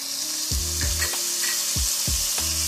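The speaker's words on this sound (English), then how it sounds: "we're going to saute that for 2 minutes. After 2 minutes, you want to add in your minced garlic" Beef sautés in a pan with minced garlic, a steady sizzle running throughout while a utensil scrapes and stirs at irregular moments, up close, with no voices.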